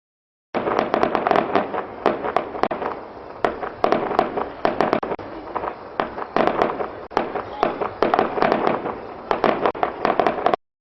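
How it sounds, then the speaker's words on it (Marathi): Rapid strings of Diwali firecrackers pop and crackle loudly, volley after volley with short pauses, a dense celebratory barrage. "सर्वत्र फटाके फोडून लोक आनंद साजरा करीत होते"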